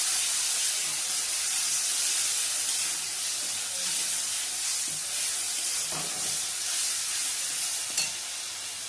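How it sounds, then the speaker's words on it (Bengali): Steady loud sizzling and hissing as spice-paste water is poured over potatoes frying in a pan, a continuous bubbling spray with faint stirring scrapes and no talking. "এবার একটুখানি জল দিলাম, যেটা মশলা দিতেছিলাম ওই মশলা বাটা জলটা দিয়ে দিলাম"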